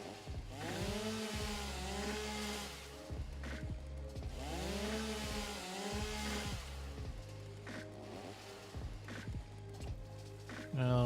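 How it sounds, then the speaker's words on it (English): A chainsaw in the video game Satisfactory shears through foliage. The engine drones in long rising and falling sweeps and cuts out briefly between passes, with some game noise mixed in. "The chainsaw is amazing."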